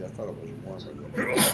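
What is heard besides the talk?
sneeze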